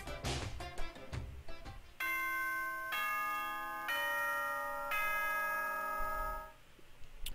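Announcement chime from the video game Danganronpa, a sustained ding-dong of bright bell-like tones rising in steps over several seconds, loud and clear after a short jumble of sounds at the start.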